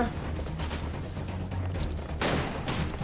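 Gunfire from a Free Fire battle: dense, continuous bursts of shots crackle throughout, growing louder and harsher near the end, with a voice talking over the shooting.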